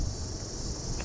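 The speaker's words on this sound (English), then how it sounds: "Got a little sonic accompaniment from the cicadas." Cicadas in a pinyon pine in Big Bend National Park give a continuous, dense, high buzzing drone. It sounds close and steady and is heard alone without talk.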